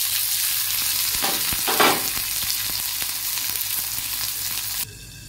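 Chopped tomatoes and slit green chilies fry in a pan with mushrooms, giving a steady, close hiss of sizzling oil with a few scraping stirs, then cutting off abruptly near the end.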